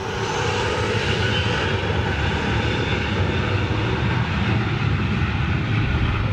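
Jet aircraft on approach to Manchester Airport, a steady loud broadband engine roar holding constant throughout with no voices.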